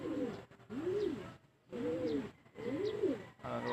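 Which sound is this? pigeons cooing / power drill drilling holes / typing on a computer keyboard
pigeons cooing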